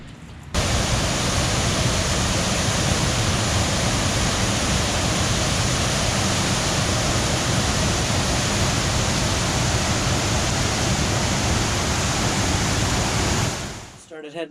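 Water rushing over a dam, a loud, dense, continuous roar heard close by, unbroken for the whole stretch before cutting off.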